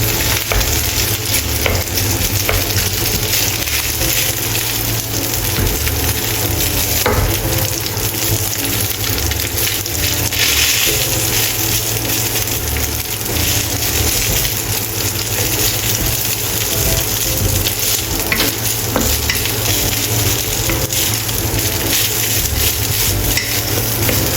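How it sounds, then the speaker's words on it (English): Continuous loud sizzling and scraping as overnight rice is stir-fried and tossed in a hot pan for egg fried rice, steady throughout with no voices. "Add overnight rice and stir-fry."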